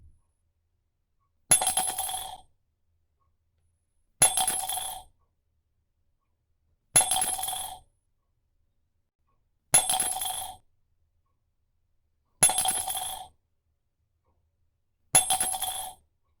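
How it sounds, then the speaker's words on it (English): Single coins dropped one at a time into a mug: six clear, ringing metallic clinks evenly spaced a few seconds apart, each fading quickly, with silence between and no voices. "How many coins did you hear being dropped in the mug that time?"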